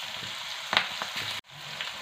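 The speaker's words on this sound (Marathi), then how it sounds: "आता ह्या मिरच्या आपल्याला छान तेलामध्ये परतून घ्यायच्या आहेत" Green chillies frying in hot oil, a close, steady sizzle with a brief spike of crackling, cutting off abruptly before the sizzle resumes.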